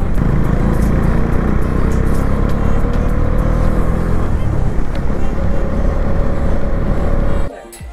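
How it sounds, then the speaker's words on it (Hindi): Four Bajaj Dominar motorcycles ride a monsoon mountain road from Gangtok to Lachen in North Sikkim, their engines droning loudly and continuously up close before cutting off abruptly near the end. "अब अभी बस बाइक का साउंड का मजा लीजिए आप लोग। चार डोमिनर है"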